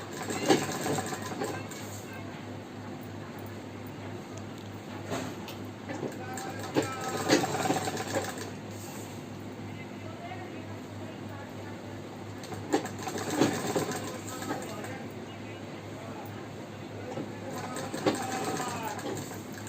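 A sewing machine stitches a Patiala salwar in bursts, its rapid mechanical chatter starting and stopping repeatedly at close range, with quiet background sounds between runs.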